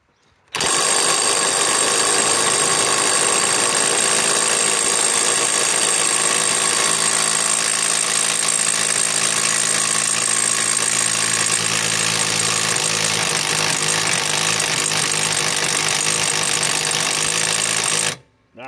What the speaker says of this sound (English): I want to loosen it with a DEWALT XR DCF 891